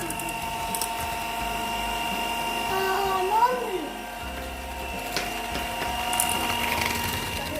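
An electric beater whirring as it mixes butter and sugar for Christmas cookies, a steady motor drone with shifting pitch as the blades work the mixture, fairly loud and close, with someone speaking over it.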